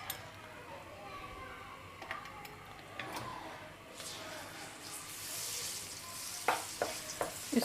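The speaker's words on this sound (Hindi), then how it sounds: "इसको ब्राउन होने तक इसकी भुनाई करते हैं।" Garlic paste fries in about half a cup of oil over a full flame, giving a faint, steady sizzle with occasional ticks and scrapes from stirring. Someone talks over it.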